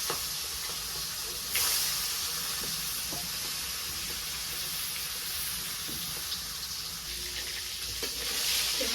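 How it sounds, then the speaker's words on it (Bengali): Fish sizzling in hot oil, a steady bright hiss of frying with occasional crackles and pops, close and continuous, with no talking. "তেল তাপ হয়ে গেছে আর মাছে মেখে নিছি দিয়ে দিই মাছ"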